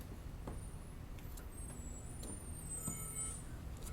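Big truck idling outside a driveway with faint air-brake hisses and a low engine rumble, steady and distant, with no voices.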